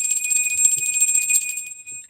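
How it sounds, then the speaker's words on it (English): A bell rung during a tarot reading livestream, giving a steady high bright ringing tone that sustains for about two seconds, clear and close with no voices over it. "we're going to ring your bell"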